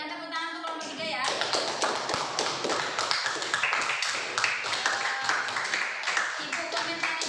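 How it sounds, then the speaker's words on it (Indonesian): Classroom applause for a student group, a quick burst of clapping hands from a modest crowd that starts right after a speaking voice and keeps a steady patter throughout. "Ya, berikan tepuk tangan untuk kelompok 3 ya."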